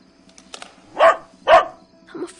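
A dog gives two loud, close barks in quick succession, with softer whimpering and snuffling sounds before and after, and no speech.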